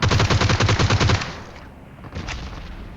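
Gunfire in the mobile battle-royale game PUBG Mobile: a rapid, loud automatic burst of about a dozen shots lasting just over a second, followed by a short quieter shot and fading echo.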